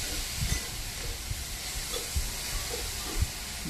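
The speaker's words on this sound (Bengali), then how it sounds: "নাড়াচাড়া করে দিচ্ছি।" Food sizzles in a pan with a constant loud hiss while it is stirred, and soft irregular knocks of the utensil against the pan cut through the frying.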